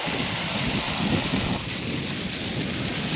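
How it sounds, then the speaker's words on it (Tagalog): Strong wind blowing across dry, sun-scorched open ground, a steady loud roar with gusty rumbling buffeting throughout, continuous and close, no voices. "Lakas ng hangin."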